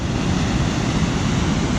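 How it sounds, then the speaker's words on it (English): A powerful waterfall at Ragged Rapids roars as a loud, dense, unbroken wash of noise, heard from a distance with nothing else over it. "That's a very powerful waterfall down there."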